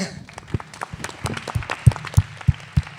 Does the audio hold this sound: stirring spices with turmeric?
no